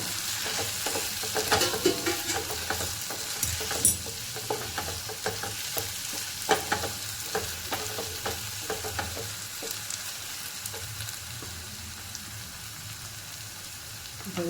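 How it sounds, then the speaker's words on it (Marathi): Onion greens stir-frying in a pan, a continuous soft sizzle broken by repeated scraping and stirring strokes, fairly close and moderately quiet with no talking. "मी मध्ये 2दा येऊन परतून घेईल कांदा।"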